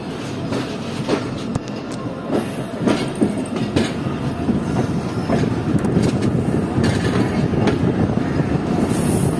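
Train at Radhan railway station in rural Sindh, heard as a steady rolling rumble of wheels with clickety-clack beats and brief high squeals, loud and continuous throughout with no voices.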